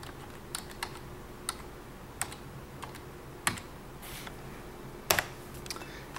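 Password being typed on a computer keyboard during a Windows XP boot repair: a sparse run of separate key presses, close and fairly quiet, with irregular gaps between them and no speech.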